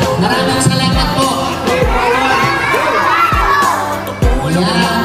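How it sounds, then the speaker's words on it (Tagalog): A crowd of children shouts loudly and cheers at a feeding program, a dense continuous roar with rising whoops and a few low thumps, close and filling the whole stretch. "Sigaw na lang ng malakas."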